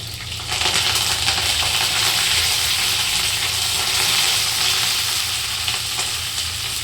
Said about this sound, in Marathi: आवाज आला ना कढीपत्त्याचा.